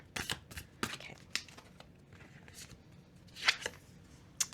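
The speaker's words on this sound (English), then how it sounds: "This deck is really hard to shuffle." Cards are riffled and shuffled in quick bursts of crisp, papery flutters and snaps, close and fairly quiet, with a few sharper slaps.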